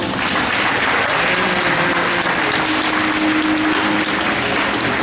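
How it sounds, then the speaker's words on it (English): Steady, dense applause from a crowd at a Mystic, Connecticut show fills the whole stretch, loud and continuous with no pauses. "give him a great big round of applause"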